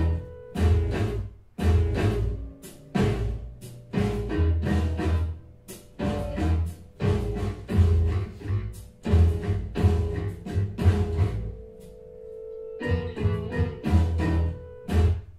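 A recorded jazz piece plays back from its opening: deep pulsing bass notes and sustained tonal lines move in a steady rhythm and fill the passage, with a brief thinner stretch near the end.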